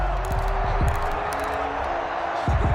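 A stadium crowd roars steadily in Madden NFL 21 ahead of a big third down, a dense continuous cheer under a commentator's voice.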